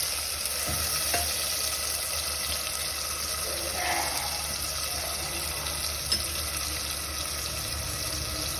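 Spices and tomatoes frying in hot oil for a tempering give off a continuous soft sizzle, with a few faint clinks and stirring sounds scattered through it.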